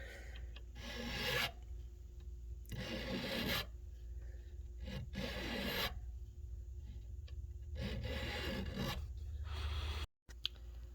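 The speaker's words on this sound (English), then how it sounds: "I'm just kind of pushing across it and letting the file do its work." A hand file rasps across the fret slots of a maple Fender guitar neck in slow, repeated close strokes, each a few seconds long with brief pauses between, no talk.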